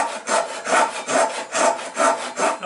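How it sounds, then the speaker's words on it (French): A small 18 cm Japanese ryoba pull saw cuts through wood for a toy boat, giving rhythmic rasping strokes, about five even back-and-forth passes, close and clear with no talking. "j'utilise en réalité pour les bateaux jouets pratiquement uniquement la petite ryoba de 18 cm"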